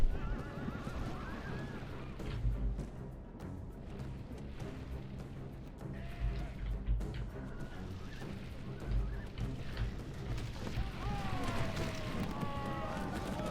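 Horses in a Rome Total War battle, with repeated whinnies and neighs rising over steady galloping hoofbeats and a dense clamour of fighting that carries on throughout.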